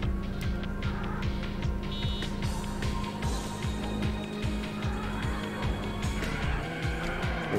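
A Toyota Supra races in the PS1 Need for Speed game, its engine revving up and down through rapid repeated gear-shift sweeps, with tire squeal and skidding over a loud, continuous game soundtrack and no talk.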